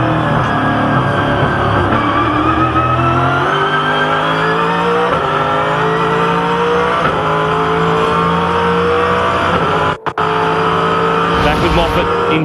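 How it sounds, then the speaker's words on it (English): V8 Supercar race cars roar continuously at the Bathurst circuit, engines loud and steady with shifting pitch as they run close, under commentary, with a brief dropout near the end. "Now here's Steve Owen, and he's just been off again down at turn 1."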